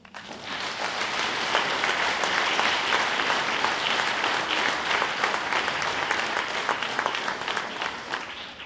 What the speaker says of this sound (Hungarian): ezért is megérdemeltek egy nagy tapsot